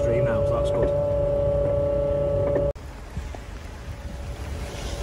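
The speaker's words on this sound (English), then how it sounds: "Got a little waterfall now." Floodwater pours out of a freshly dug trench into a stream, making a small waterfall; a steady broadband rush of flowing water continues throughout, with a louder tonal hum cutting out partway.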